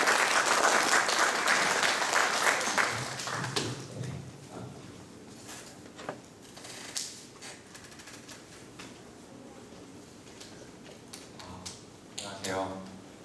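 Seminar audience applauding as a parent is invited up, with a burst of clapping at the start that thins out. Scattered claps, shuffling and movement noises follow.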